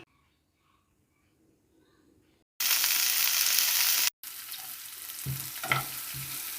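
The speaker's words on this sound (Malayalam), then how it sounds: "രണ്ട് ടീസ്പൂൺ എണ്ണ ഒഴിക്കുക അതിൽ കടുക് ഒരു കാൽ ടീസ്പൂൺ ഉലുവ വറ്റൽമുളക് ഇത്രയും വറുത്തെടുക്കാം" Mustard seeds, fenugreek, dried red chilies and onions fry in oil for pumpkin pulingari. After a quiet start comes a sudden loud, close sizzle, then a brief break and more crackling with a few stirring knocks.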